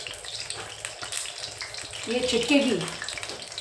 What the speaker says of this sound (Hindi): कढ़ाई में तेल रखा था, उसमें पानी चला गया है